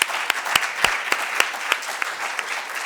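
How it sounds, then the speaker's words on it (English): Sparse clapping from a conference audience at EA Global Boston, a few distinct claps spaced irregularly over a soft background, moderately quiet and fading. "Let's give him a round of applause."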